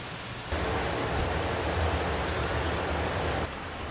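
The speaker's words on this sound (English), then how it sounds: "this whole disc rotates and is cleaned off through high pressure nozzles" Rotating filter disc at a recycled water treatment plant being sprayed clean by high pressure water nozzles, a steady loud rushing hiss of spray that starts abruptly and holds evenly for about three seconds before dropping back to a lower background wash.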